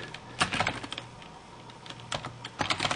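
Typing on a computer keyboard, close and fairly quiet, with irregular clusters of rapid key clicks separated by brief pauses.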